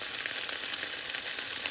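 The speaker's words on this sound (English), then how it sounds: "it's definitely frying up like a sausage would" A plant-based Beyond Sausage fries in a pan, giving a dense, continuous close-up sizzle with fine crackles and no speech.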